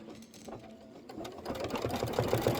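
An embroidery machine stitches a decorative pattern for a Halloween pillow, its motor running in a steady rapid buzz that grows louder and busier partway through, close up and with no talk.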